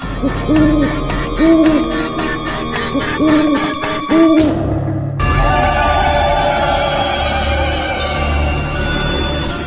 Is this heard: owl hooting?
yes